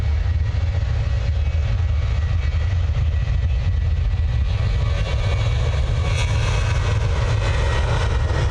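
A Ryanair airliner departs Manchester Airport for Beauvais, its engines a loud, steady broadband roar with heavy low rumble that holds for the whole stretch, no voices over it.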